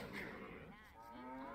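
A cow moos in Age of Empires II, a drawn-out lowing call with clear harmonic bends that swells in the second half of the short clip, set against a busy game soundscape.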